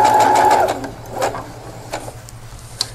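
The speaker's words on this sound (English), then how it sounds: "And then you're just going to sew" A sewing machine runs a quarter-inch seam on a clamshell quilt, a short loud whirring burst at the start followed by quieter handling clicks and taps close by.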